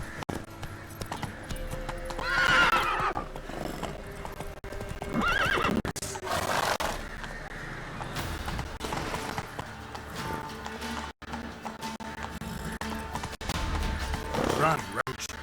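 Roach, the horse in The Witcher 3: Wild Hunt, gallops with rapid, steady hoofbeats and snorts and neighs loudly at moments, while other sounds and voices run underneath throughout.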